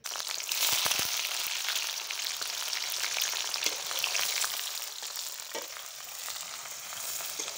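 Cumin seeds, bay leaves and onion frying in oil in a village kitchen, a continuous bright sizzling hiss with scattered small pops and crackles, close and steady without any talking.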